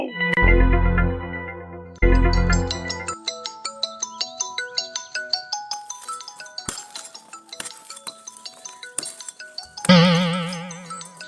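A mobile phone ringtone plays loud and close: two strong opening chords, then a quick, bright melody of plinking tones, ending on a buzzy, warbling note.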